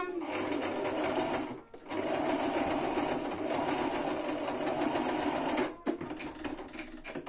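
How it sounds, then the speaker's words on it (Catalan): Sewing machine running steadily as it stitches fabric for a book or tablet cover, a dense continuous whir with two brief pauses. "Doncs ara tallem i agafaré la màquina de cosir."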